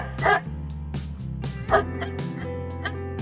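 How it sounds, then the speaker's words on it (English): A dog barks repeatedly in short, loud bursts with some whimpering yips in between, close to the listener. "This is a barking dog."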